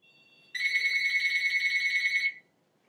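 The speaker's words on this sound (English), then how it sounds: "You heard my phone ring." A phone ringtone plays on an iPod Touch used as a phone through a free calling app. It is a single bright electronic ringing burst lasting about two seconds, alone and close, against near silence.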